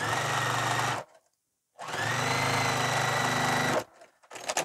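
A sewing machine runs in two loud, close bursts while stitching through foam and lining, with a steady motor hum and needle chatter, a brief silence between them and a short stop-start at the end.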